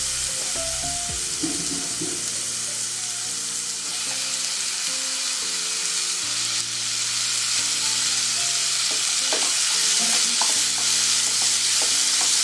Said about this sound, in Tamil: தக்காளி, இஞ்சி பூண்டு பேஸ்ட் எல்லாம் ஒன்றா வதங்கி வர வரைக்கும் கொஞ்சம் நல்லா வதக்கிக்கணும்